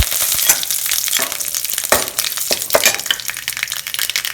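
Mustard seeds, a broken chili and curry leaves crackle and sputter in hot oil, loud and close, with sharp popping bursts over a dense sizzle and no talking.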